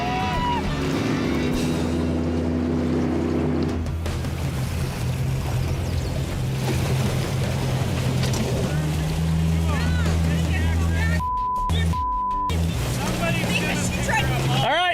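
A motorboat engine drones loudly and steadily on a river under wind noise and rushing water, with people talking over it at times and brief tones near the end.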